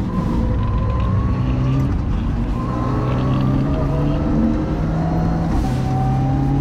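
A loud Mitsubishi Lancer Evo IX N4 rally car engine drones and revs continuously nearby, pitch rising and shifting with gear changes.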